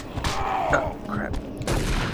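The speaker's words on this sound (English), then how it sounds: "The shotgun's doing really good against these guys." Shotgun blasts in the VR game Doom 3, a rapid series of booming shots with crunching impacts, while a player talks over the gunfire.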